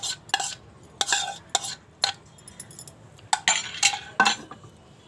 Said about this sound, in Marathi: हे सतत ढवळत राहायचं इथे पण, गुठळ्या होऊ नये म्हणून.